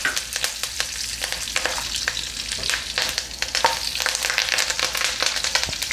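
Plenty of curry leaves crackle and sizzle steadily in hot oil for thin poha chivada, a Diwali snack, with sharp spattering pops over a continuous frying hiss and no voices.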